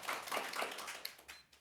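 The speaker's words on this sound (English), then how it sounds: "can we have a round of applause?" Student union hustings audience giving a round of applause for two candidates, faint and fairly brief clapping that fades out toward the end.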